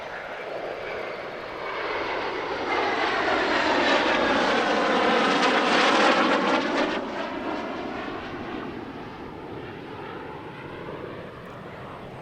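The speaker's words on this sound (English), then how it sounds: "Although this is a G91R, it wears the colours of the Frecce Tricolori." A Fiat G91R jet fighter in Frecce Tricolori colours roars past at an Italian Air Force centenary airshow, its loud engine swelling to a peak and fading away, with no one talking.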